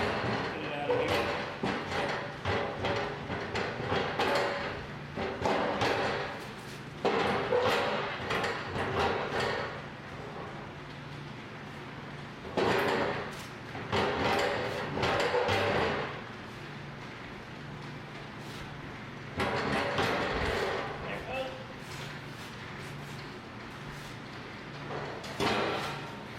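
The door comes off a Bobcat loader during disassembly. Repeated metallic clunks, thumps and sliding scrapes occur close by in irregular bursts, with someone talking throughout.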